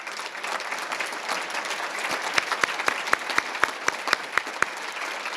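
An audience at a citizen of the year awards ceremony applauds steadily, a dense wash of clapping with a few sharper claps standing out toward the end.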